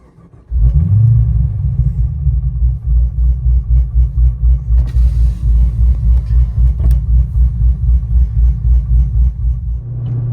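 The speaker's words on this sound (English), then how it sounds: "I've had a few people ask me recently to do a point of view drive in my HSV VF GTS" A deep, loud rumble from an HSV VF GTS car engine on a spring cruise in Queensland. It fires up and holds a steady, throbbing low drone with a slight pulsing rhythm, close and alone.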